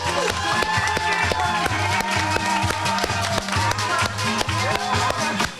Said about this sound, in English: Let's have a round of applause for our wonderful participants.